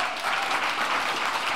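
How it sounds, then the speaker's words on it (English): Congregation applauding together in a church service, steady broadband clapping filling the space throughout with no talk on top. "So I want you guys to give yourselves a round of applause."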